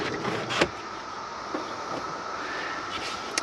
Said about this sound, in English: You've also got this really nice removable privacy cover here.